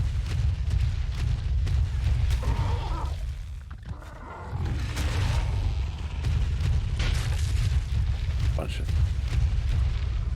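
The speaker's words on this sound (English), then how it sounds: "so it has like a fire breath." Fire breath from the Inferno Rex in a modded Ark: Survival Evolved video game, a loud, roaring, rumbling blast that runs nearly throughout, dipping briefly midway, with someone talking over it.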